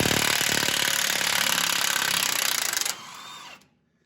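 A ratchet loosening tight rear axle bolts on a 1964 Ford F100 truck makes a loud, dense, continuous rattling buzz for about three seconds, then drops to a quieter whir and cuts off. No one speaks.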